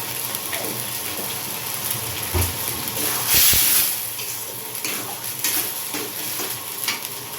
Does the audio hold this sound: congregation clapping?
no